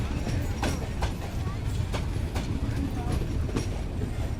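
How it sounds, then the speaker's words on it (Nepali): A long passenger train rolls past on the rails, with a continuous rumble and a rhythmic clickety-clack of wheels on the rail joints, fairly close and steady. "फेरि ट्रेन त ओ भाइजान बहुत लम्बा ट्रेन"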